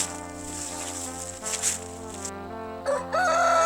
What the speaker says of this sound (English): It sounded like a rooster.